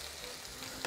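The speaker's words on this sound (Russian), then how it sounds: "А пока у нас морковь с луком жарится" Carrot and onion fry in a pan with a soft, steady sizzle, faint and close, briefly brightening at the end as if stirred.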